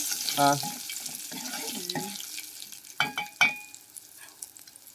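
Tomato rasam with spices being stirred in a pan, heard as scattered scraping and clinking of a utensil with a faint sizzle beneath, a few sharper knocks near the middle, then quieter.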